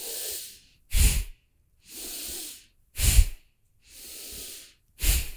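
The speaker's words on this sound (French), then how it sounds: "on essaye de toujours garder cette respiration active" Forceful pranayama breathing exercise in a calm class setting: loud rhythmic cycles of sharp nasal exhalations alternating with longer hissing inhalations, about six breaths, close and alone with no talking.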